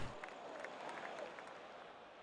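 Golf gallery in PGA Tour 2K25 reacting after a ball is hooked toward the spectators, a soft distant swell of clapping and crowd murmur that fades gradually.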